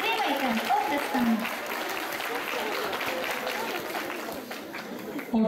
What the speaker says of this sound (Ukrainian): Підтримайте оплесками.